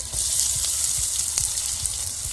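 Chopped garlic and onion fry in hot white oil in a heated wok, giving a loud, continuous close-up sizzle with soft low bumps from stirring.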